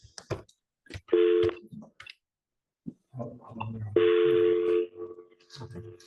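A telephone call being placed, with two bursts of steady ringback or dial-type tones heard close up, interleaved with clicks and people talking.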